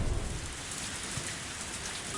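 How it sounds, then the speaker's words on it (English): In the game Higurashi, raindrops drum on a car roof in a dense, steady patter, close and continuous, with no voices. "All of a sudden, I heard the sound of raindrops hitting the roof of the car."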